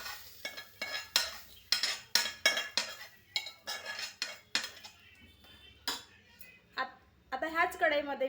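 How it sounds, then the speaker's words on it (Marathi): A metal kadhai being washed, with pots and utensils clattering and clinking in quick, loud, uneven bursts, then a short run of softer scraping near the end. "त्याआधी कढई मी धुवून टाकते."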